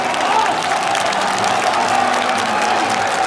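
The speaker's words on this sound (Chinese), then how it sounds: "主队的球迷给客队送上了掌声" Home football fans in a stadium crowd applauding the away team at a Chinese Super League match, a dense continuous wash of clapping with crowd murmur across a short stretch.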